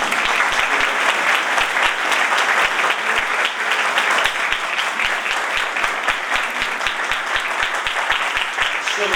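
A church congregation applauding during an Urdu Bible sermon, a loud, continuous wash of many hands clapping that stays steady and close throughout.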